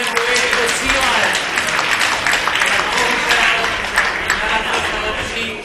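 A crowd at a robot competition in Prague applauds as a team's robot crosses the finish line. The clapping stays dense and loud throughout, with no break.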